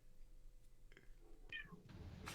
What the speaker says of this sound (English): listen, there's a cat in the background